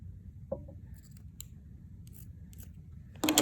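Scissors snip through fabric while a stripper one-piece is being made, giving a single crisp cut early on, faint light rustles, then a louder burst of cutting at the end, close by and with no talking.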